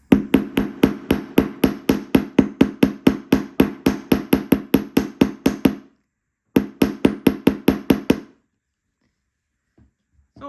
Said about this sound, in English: when you use a bench block and a hammer on a piece of wire